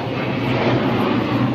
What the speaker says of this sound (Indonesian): Oh, ada pesawat lewat, guys.